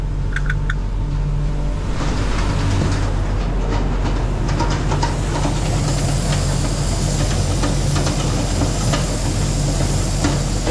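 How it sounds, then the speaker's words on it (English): The auger on a snow plow truck, a 2020 Chevy Silverado 6500, runs with a steady loud mechanical rumble and hiss, continuous and close throughout with faint rattling clicks on top. "Auger."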